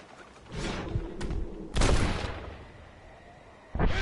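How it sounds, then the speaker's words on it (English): Enemy gunfire in the video game Red Dead Redemption, a few sharp cracking shots with echoing tails, one loud burst near the middle and another at the end, over quiet ambience without speech. "They're shooting you!"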